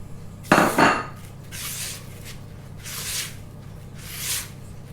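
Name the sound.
mixing soft brown sugar into sieved cake ingredients in a bowl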